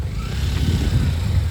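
A motorbike climbs a steep slope on a trek up Kunagalu Betta near Ramanagar, its engine a steady low rumble held close and unbroken, with no talk.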